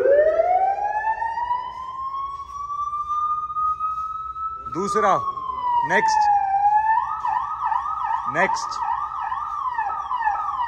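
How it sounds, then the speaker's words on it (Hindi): A loud electronic siren hooter fitted to a Mahindra Thar, heard in a basement, rises in a long sweeping wail, then shifts to fast warbling yelps, with short bursts of talk cutting in. "एक बार बजाइए सायरन, आवाज़ सुनाऊंगा कितनी तेज आ रही है"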